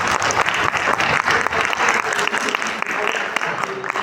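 An audience claps steadily for a few seconds, a dense wash of applause with no pauses.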